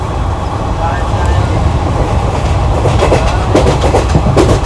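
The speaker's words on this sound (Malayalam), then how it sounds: "ട്രെയിൻ സ്പീഡ് എടുത്തിട്ട് അങ്ങനെ സ്പീഡ് എടുത്ത് തുടങ്ങി." West Coast Superfast Express train from Chennai Central to Mangaluru, heard from inside a sleeper coach as it gathers speed, with a steady loud rumble and rhythmic clickety-clack of wheels on rail joints growing busier toward the end.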